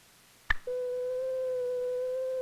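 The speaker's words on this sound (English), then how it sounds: "This pure tone gives us the classic sine wave." A short click is followed by a steady pure sine tone, a single clean, constant pitch held evenly and clearly with nothing else over it.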